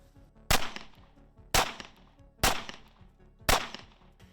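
Four sharp pistol shots fired at a target from 7 yards, each a loud crack spaced about a second apart, with a short ringing decay after each and no talking.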